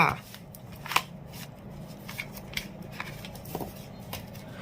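Oracle cards being shuffled by hand in a tarot-style reading, a run of soft papery riffles and taps close to the microphone with faint background ambience.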